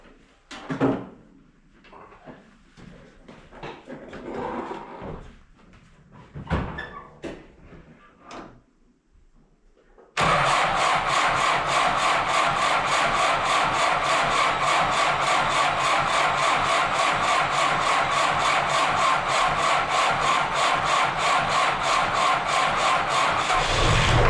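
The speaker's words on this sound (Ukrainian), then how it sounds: "Перший запуск після е, ремонту, скажімо так, форсунок." A diesel tractor engine fires up on its first start after injector repair, after about ten seconds of quieter knocking, then runs as a loud, steady, close clatter with the air intake closed until the end.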